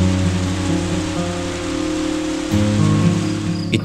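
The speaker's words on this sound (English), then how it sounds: "My recovery coincided with a period of daily, non-stop, heavy rainfalls." Heavy, continuous rain pours down in a steady dense hiss, with a sustained tonal hum running underneath throughout.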